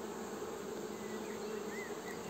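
Buckfast honeybees swarm around brood frames lifted from a hive in spring, a steady, dense buzz close by that holds level throughout with no voices over it.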